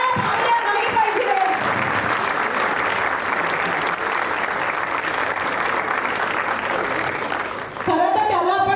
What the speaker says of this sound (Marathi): टाळ्या थांबल्या नाही पाहिजे